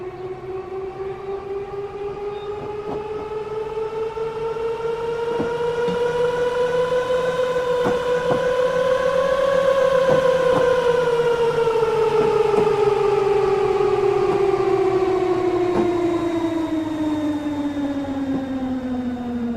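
London Underground District Line train on the westbound line at Whitechapel, giving a loud, sustained rising and falling whine as it moves through, with a steady rumble beneath and periodic clicks from the track.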